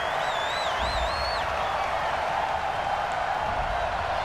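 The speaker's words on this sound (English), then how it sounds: "Well, the crowd doesn't like that." A football stadium crowd reacts to a penalty flag during a Bills at Ravens 2022 game: a steady, distant roar of boos and murmuring, with a whistle sounding at the start.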